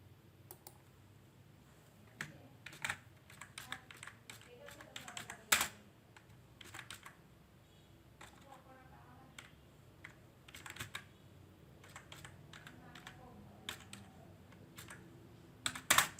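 Soft, irregular clicks of typing on a computer keyboard, scattered keystrokes in quick clusters with brief gaps, close but quiet, without any voices.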